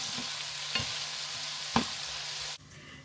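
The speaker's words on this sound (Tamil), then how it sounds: "கருவேப்பிலை எல்லாத்தையும் போட்டுட்டு அப்படியே வெங்காயத்தை போடுறேன்." Onions and curry leaves fry in oil with a close, steady sizzle broken by a couple of sharp spatula knocks, then the sound drops off abruptly near the end.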